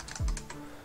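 A few quick keystrokes on a computer keyboard, soft clicks close by in a short burst with one heavier tap, no talk.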